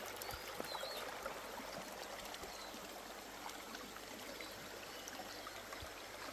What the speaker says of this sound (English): So this is the river. The river is not that clear.